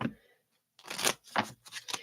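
Quick riffling bursts of a deck of cards being shuffled, close up, three separate flurries after a short pause, with no talking.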